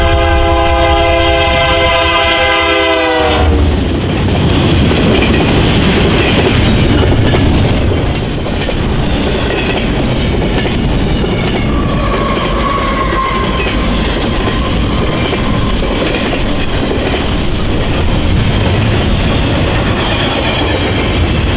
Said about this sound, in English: Next, we caught our first train at this location with BNSF power in the lead.